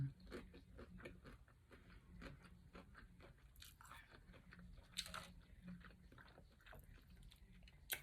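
Crunchy veggie bacon being chewed up close, a steady series of crisp bites and munching with no talking.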